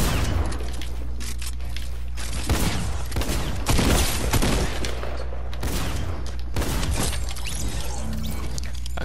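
Gunfire in a Fortnite match, loud repeated shots and booming blasts over a dense, constant low rumble of game noise, close and continuous throughout.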